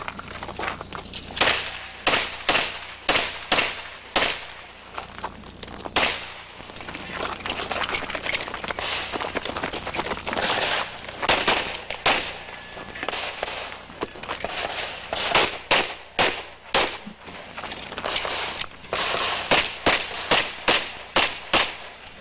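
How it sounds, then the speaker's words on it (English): Rapid strings of sharp pistol gunshots at a USPSA shooting match fired by a Team Springfield Armory shooter, loud bursts in quick clusters with short pauses between strings, no talk over the shots. "BJ shooting with the Team Springfield Armory"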